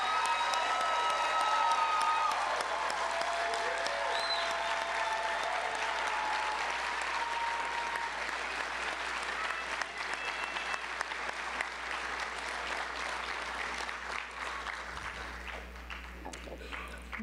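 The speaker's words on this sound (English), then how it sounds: "Can we give them a round of applause?" An audience at a dental school white coat ceremony at Meharry Medical College applauds, giving long, steady clapping with a few faint cheers that slowly thins out over about seventeen seconds, over a low hum.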